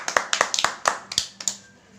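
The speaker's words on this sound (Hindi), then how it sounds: "शुभांगी जी के लिए भी तालियां" Scattered clapping for a game-show contestant: around ten sharp, close claps in an uneven rhythm from a small group, thinning out and fading after about a second and a half.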